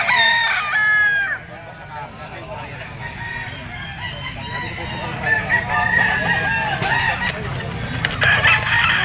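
Yellow-legged bull stag gamefowl roosters crow repeatedly amid clucking at a busy market stall, several birds calling near and far over steady background bustle.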